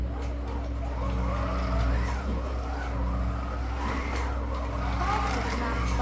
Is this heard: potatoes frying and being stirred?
no